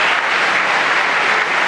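A snooker audience at the World Championship applauds in a dense, loud burst of clapping that holds steady for the whole short moment.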